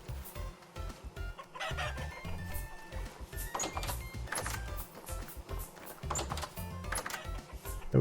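Chickens cluck and squawk in a coop in the video game Vintage Story: busy, overlapping fowl calls run throughout over a steady in-game background.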